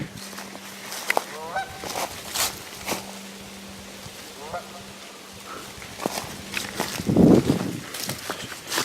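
Canada geese honk repeatedly in short calls, some near and some farther off, with footsteps and a person talking over them outdoors at Yellowstone.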